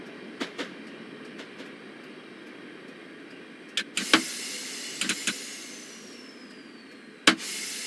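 Simulated train passing in Train Simulator near West Hampstead Thameslink: a steady rumbling cab hum broken by sharp rail clicks and clunks, plus a few louder bangs as it goes by. No one speaks.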